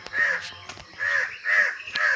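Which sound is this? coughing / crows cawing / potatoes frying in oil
crows cawing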